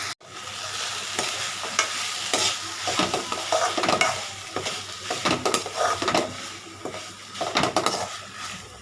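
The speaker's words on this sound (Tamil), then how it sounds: "நல்லா வதங்கட்டும்" Onions and tomatoes sauté for a chutney in a pan, sizzling continuously as a spoon stirs and scrapes with irregular, close clinks and swishes.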